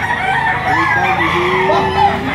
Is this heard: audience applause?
no